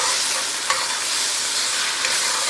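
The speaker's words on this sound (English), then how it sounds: "you want to scrape up all of the fond" A utensil scrapes the fond from the bottom of a hot pan of onions just after cognac is poured in, with a steady loud sizzle and stirring throughout.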